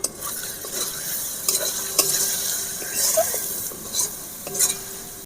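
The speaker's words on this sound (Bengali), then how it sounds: "ঝাল লঙ্কার গুঁড়ো জিরে গুঁড়ো হলুদ গুঁড়ো পরিমাণ মতো লবণ দিয়ে ভালো করে মশলা আমি ভেজে নেব" Chili, cumin and turmeric powders with salt fry in oil, giving a soft sizzle broken by repeated close scrapes and clinks of a spatula stirring the pan.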